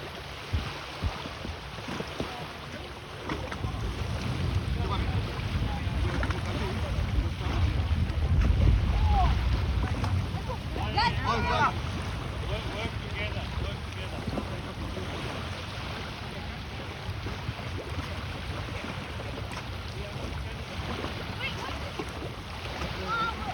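Boats out on open water by the sea, with steady wind rumble on the microphone and a low, continuous wash of water and engine noise, loudest near the middle and otherwise even throughout.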